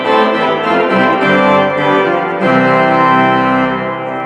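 A pipe organ's Great Division, played from the middle keyboard, sounds full, sustained chords that shift once partway through, loud and resonant with no talking.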